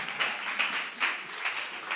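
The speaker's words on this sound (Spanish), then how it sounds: "un aplauso, un gran aplauso" An audience applauding after a talk, a short steady patter of many hands clapping at moderate loudness, heard alone.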